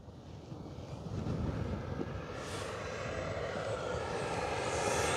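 An FMS F-86 Sabre 80mm electric ducted-fan RC jet at full throttle gives a steady, sustained whoosh with a rising high whine, heard from a distance amid windy microphone noise.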